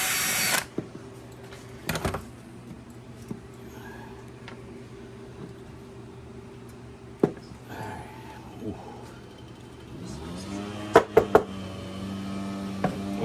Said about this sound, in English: I'm taking the screws off to break this down so I can clean each section